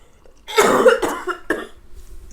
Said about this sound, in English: Oh, got that COVID cough.